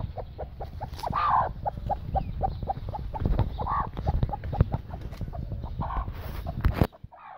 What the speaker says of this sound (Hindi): यहाँ पे भी जी हमारी एक मुर्गी कुड़क बैठी हुई है